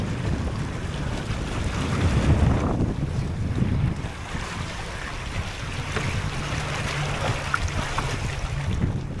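A cheap small sailboat on a solo 60-mile passage rushes through wind and waves, with heavy wind buffeting the microphone, water splashing and sloshing against the hull, and a constant rough roar throughout.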